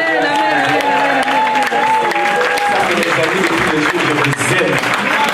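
A church congregation applauds and cheers together, a steady wash of clapping sustained throughout with voices and music mixed in underneath.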